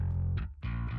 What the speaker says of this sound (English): and then I tossed this amp knob on it.